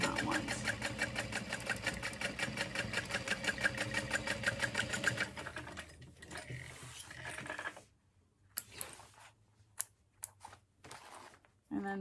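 A sewing machine runs a fast, rhythmic stitch along a bag seam for about five seconds, then slows and stops, followed by scattered clicks and handling sounds. A voice talks quietly throughout.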